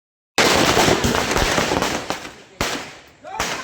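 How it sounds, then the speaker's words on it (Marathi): Firecrackers go off in a village street to greet the arrival of a Ganesh idol: a dense, loud crackling barrage of sharp pops that breaks off and restarts twice, with voices mixed in. "काय फटाके लावले हो"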